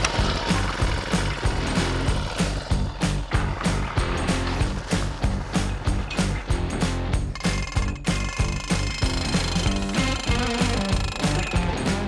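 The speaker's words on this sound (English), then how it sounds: "There's a little anvil up in there with a crank, and it just boop, boop, boop, boop, it hits the post and it drives in the ground." A post driver hammers a fence post into the ground with loud, evenly spaced metallic blows, repeated strikes in a steady rhythm close by.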